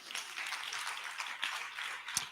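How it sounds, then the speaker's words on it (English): Audience applause for debaters at a debate event, a moderate, continuous patter of many hands clapping from across the room, with a few sharper nearby claps standing out. "Please, a round of applause again"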